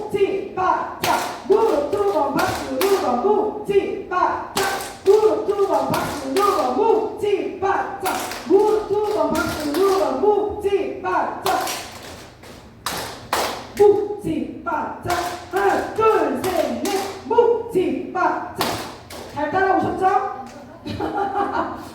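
Seniors in a laughter-therapy exercise class tapping knees and clapping hands in a rock-paper-scissors rhythm game, sharp rhythmic group slaps and claps in repeated patterns while an instructor calls out over them.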